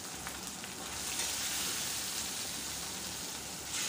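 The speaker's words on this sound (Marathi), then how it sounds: "आता झाकण काढायचं आणि संपूर्ण डाळ आपण टाकून देऊया यामध्ये." Cooked dal poured into a hot tempering pan hisses in a loud, steady frying sizzle that swells slightly midway and holds broad and close throughout, with no voices.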